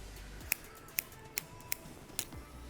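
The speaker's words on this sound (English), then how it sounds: "just lift the longer hair back and we're gonna cut it right there" Barber's scissors snip hair during a low taper fade haircut, five sharp, distinct cuts spaced about half a second apart over a quiet room background.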